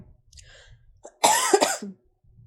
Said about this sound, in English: shall we count how many times I bloody cough tonight?